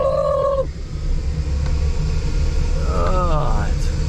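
Turkeys gobble on a rural property during rain, one warbling call at the start and another rattling gobble near the end, over a steady low rumble of an idling vehicle.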